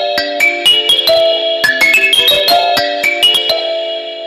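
Meditation kalimba phone app playing a string of bright plucked metallic tine notes, ringing and overlapping in a loose melodic run, clean and alone without talk.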